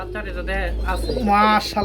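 Pigeons coo close by in soft, throaty bursts, with a low hum underneath.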